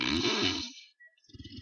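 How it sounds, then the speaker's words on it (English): A sedated patient snores loudly during sleep apnea surgery, one rough, rattling snore up close, then a pause and the start of another breath. "You can see the patient grossly snoring"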